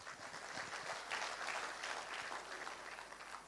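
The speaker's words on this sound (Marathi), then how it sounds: "टाळ्या तुमच्यासाठीच वाजवा" An audience at a real estate business seminar in Nashik claps together in a dense, continuous round of applause, fairly soft and distant, holding steady for a few seconds.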